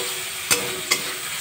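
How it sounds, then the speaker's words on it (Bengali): Chana dal and potatoes sauté over a high gas flame, a steady close sizzle broken by two quick stirring scrapes about half a second apart. "গ্যাসের ফ্লেমটা বাড়িয়ে 2 মিনিট ভালো করে কষিয়ে নেব।"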